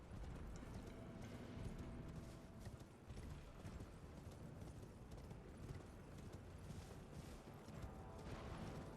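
Horse hooves gallop in a steady, rapid clip-clop rhythm throughout in the game Elden Ring, set in a dense, busy game soundscape, fairly faint and continuous with no pauses.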